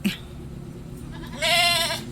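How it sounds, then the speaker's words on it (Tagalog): A goat bleats loudly nearby, calling for its companion in hot outdoor farm surroundings, with one long wavering cry near the end after a short sharp sound at the start. "sumisigaw ang kambing"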